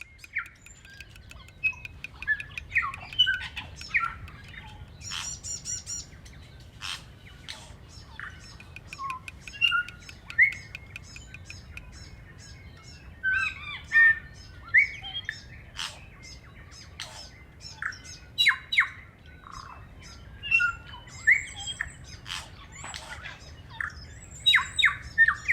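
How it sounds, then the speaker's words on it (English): Loud, dense birdsong along a forest walking trail, with squawks, whistles and rapid chirps from several birds overlapping nonstop over a low steady background rumble. "is this the loudest bird song we've heard?"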